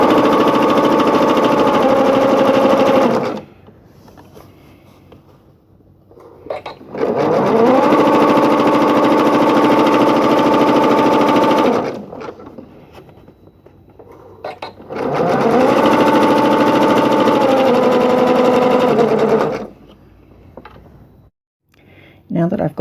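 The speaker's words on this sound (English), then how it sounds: "so I'm just starting at the straight line and joining them together" A sewing machine stitches quilt-as-you-go strips together in three long runs of steady whirring mechanical chatter, close and loud, separated by quiet pauses with faint handling noises.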